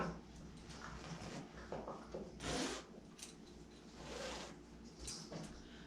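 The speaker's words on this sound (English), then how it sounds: "And my zipper, whoops." A quick, rasping zipper pull sounds close by amid soft rustling and handling noises, with a few brief scrapes.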